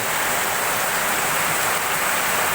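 Heavy rain pours steadily during a film shoot, a dense, loud, unbroken hiss with no gaps and no voices.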